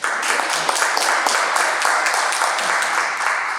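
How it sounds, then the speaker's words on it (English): Audience at a Toastmasters club meeting giving a sustained round of applause, a dense, steady wash of many hands clapping close by with no talk over it. "So a big round of applause for Toastmaster."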